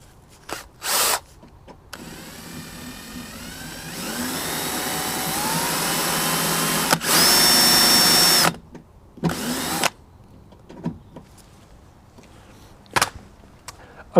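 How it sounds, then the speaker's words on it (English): Power drill boring out old rivet heads on the wheel arch of a 1991 Mk2 VW Golf GTI 8V, whirring in several bursts, one long sustained run and a higher-pitched grinding stretch, separated by short pauses. "we need to drill the old rivet heads out because they're still in there"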